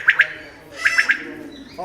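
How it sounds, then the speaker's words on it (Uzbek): A quail's sharp, high calls ring out close by in quick pairs and then a triplet of chirps, with a voice briefly starting at the end. "Bu yerda birinchi o'zimizni bedana. Sayra."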